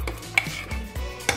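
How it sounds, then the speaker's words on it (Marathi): A spoon scrapes and stirs mutton curry ingredients in a pot, seasoned with salt and black salt for Khandeshi mutton rassa, with soft, rhythmic scraping strokes and a few sharper metallic clinks, quiet and close. "आता हे व्यवस्थित मिक्स करून"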